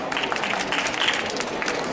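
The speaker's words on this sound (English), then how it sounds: "Give her a round of applause." Brief, dense applause from an audience at a hypnosis and mind-control stage demonstration forms a steady, busy wash of clapping with no pauses.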